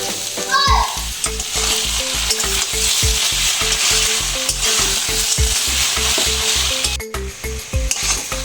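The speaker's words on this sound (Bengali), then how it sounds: "কচু শাক আমি ভালো করে 4-5 মিনিট নেড়ে নিয়েছি।" Taro leaves cooked with crab stirred and fried in a pan, a continuous loud sizzle broken by a regular rhythm of spatula scrapes and stirs about every third of a second, close up, with no voices.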